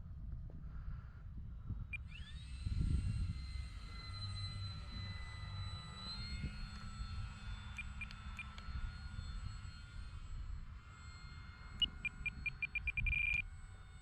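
Bigfoot RC model airplane flying in to land across a crosswind runway, its thin whining motor rising in pitch and holding steady, faint and distant over low wind rumble, with brief chirping blips near the end.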